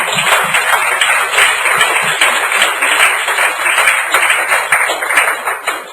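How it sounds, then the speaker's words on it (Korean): A church congregation gives sustained applause for its children's ministry teachers at a Sunday service, a dense, loud wash of many hands clapping continuously with a faint steady tone above it. "우리 하나단 교사들, 조엘랜드 교사들 위해 우리 축복의 박수"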